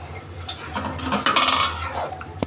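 A lid clatters onto a pan of cooking fish head curry, with a few close metallic knocks and scrapes spread over a couple of seconds, and no talking.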